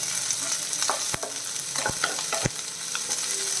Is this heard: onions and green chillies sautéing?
yes